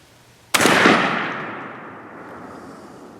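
A 20 gauge Indian Creek 555 shotgun fires a Federal TSS number 9 turkey load at about 18 yards, a single sharp loud blast followed by a long decaying outdoor echo.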